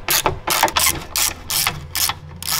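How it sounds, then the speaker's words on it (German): Ratchet loosening Torx T30 screws on the front door lock of an Audi A3 8L: a close, loud series of about six quick clicking bursts in a steady rhythm, with no talk. "Dann können wir hier außen die beiden Torx T30 Schrauben öffnen."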